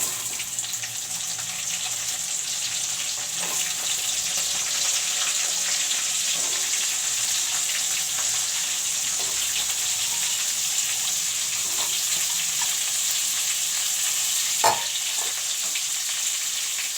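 Cut onions frying in a pan for a chicken curry give a steady, continuous sizzle throughout, with a few faint clicks and one brief sharper tap near the end, and no talking.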